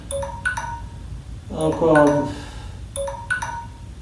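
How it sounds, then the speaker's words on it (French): A phone alarm sounds in a gym-stick exercise session at home, with repeating bright chiming beeps in short patterned bursts over room noise while someone speaks briefly. "C'est mon alarme qui se déclenche"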